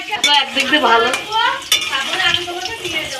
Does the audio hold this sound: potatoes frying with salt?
yes